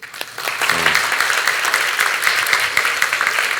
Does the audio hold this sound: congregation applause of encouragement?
yes